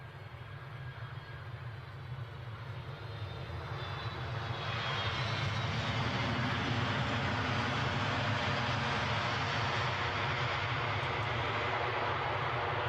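Airliner taxiing at Edinburgh airport, a continuous jet engine roar that swells louder partway through and then holds steady and strong to the end, with no talk over it.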